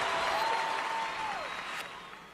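Audience applause at the Nintendo Switch presentation, a dense wash of clapping held steady and fading slightly toward the end, with a faint high whistle-like tone gliding down through the middle.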